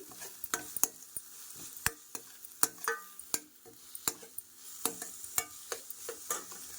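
Onions fry in a pan for a kaju makhana curry with a soft sizzle underneath and frequent sharp clicks and taps of a spatula on the pan, irregular and close, without talking.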